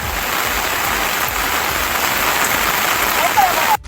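Heavy rain pours steadily during floods in Jamnagar, a dense continuous roar of water with no pauses.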